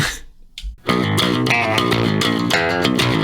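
A heavily distorted cheap Dollar General electric guitar plays a fast metalcore riff at 200 BPM after a brief quiet lead-in, loud and sustained with steady rhythmic chugging.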